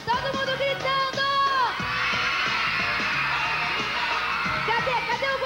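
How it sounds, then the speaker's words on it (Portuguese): An audience of children shouting and cheering at a lively children's show, a loud sustained crowd roar of young voices after some tonal music, whoops rising over the din, with no clear talk on top. "Todo mundo gritando!"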